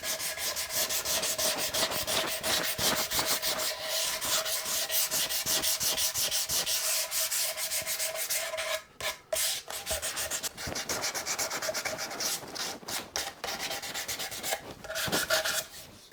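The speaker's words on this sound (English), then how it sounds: "So again, it's just a case of blending in all of these edges on the back" Steady close-up sanding on the back edges and contours of a Squier Stratocaster guitar body being refinished, a continuous abrasive rubbing with rhythmic strokes and a couple of brief pauses, no voices.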